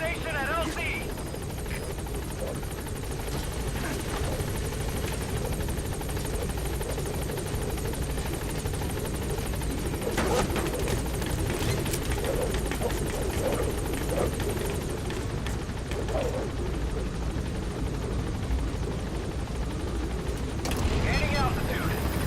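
Helicopter lifting off from a landing zone in Metal Gear Solid, a continuous loud rotor thrum and turbine roar filling the scene, with game sounds and voices mixed in.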